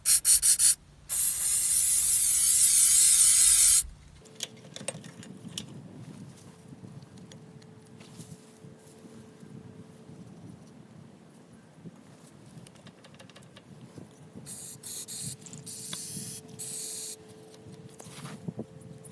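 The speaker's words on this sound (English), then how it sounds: "So let's get it squirted out with some carburetor cleaner first." A short hiss of carburetor cleaner sprays onto a 1981 Kawasaki KLT200 three-wheeler engine from a barn find, packed with grass and cottonwood blossoms. The burst is loud, lasts a few seconds, then fades into quiet handling noise, with a second brief hiss near the end.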